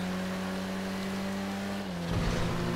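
Car engine in a GTA 5 Online land race, a steady droning tone that holds level, then dips and picks back up as the car gets back on the gas near the end, loud and close with no talk.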